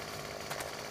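A chainsaw running steadily in the survival video game 7 Days To Die, a brief continuous buzzing drone at moderate level.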